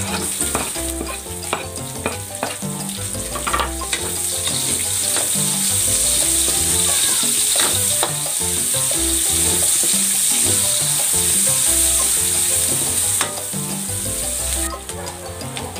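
Onions sizzle loudly in a pan for chicken pork adobo, a dense, continuous frying hiss with busy stirring clatter and scraping running throughout.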